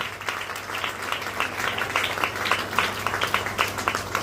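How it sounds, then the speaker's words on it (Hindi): Wedding guests clap enthusiastically after a ring exchange, steady dense applause throughout with a low steady hum underneath and occasional sharper claps standing out near the front. "जोरदार तालियां।"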